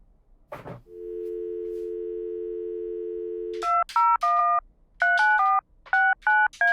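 A telephone handset gives a click, then a steady dial tone for about three seconds, followed by a quick series of clear, loud touch-tone dialing beeps in short bursts with brief gaps.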